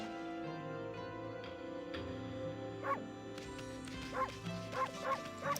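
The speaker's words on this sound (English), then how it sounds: "I can bark?" A cartoon dog barks in the Ōkami HD video game, giving a quick run of short, high yips near the end over steady in-game music.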